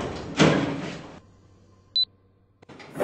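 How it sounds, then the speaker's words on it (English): A Stannah lift door sliding open in a Roblox game, a brief whoosh that fades into quiet, then a single short beep and a faint knock. "Doors opening."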